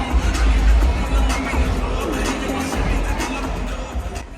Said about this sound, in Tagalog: Sa loob ng arena, sabay-sabay ang mga hiyawan, palakpakan at saya.